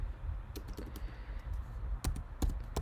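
A command being typed on a computer keyboard during a Red Hat Linux lab session: a sparse run of light keystroke clicks with a few louder taps near the end, over a low steady hum.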